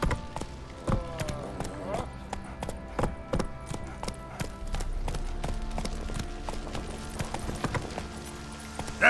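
Hooves of a horse galloping in The Witcher 3 beat in a fast, steady clip-clop, with a voice urging it on over the running footfalls.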